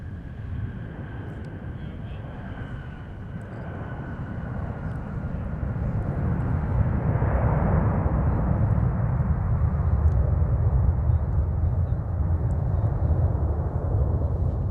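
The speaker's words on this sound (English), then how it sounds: "they floated a fair bit down the runway before they planted those mains down" An airliner landing on the runway at MSP airport, a broad roaring jet rumble heard from a distance that swells louder and fuller about halfway through and then holds steady.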